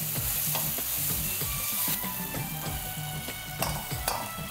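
Chicken for Dragon Chicken frying in a pan, a loud continuous sizzle up close with repeated rhythmic scraping as it is stirred and tossed, no voices.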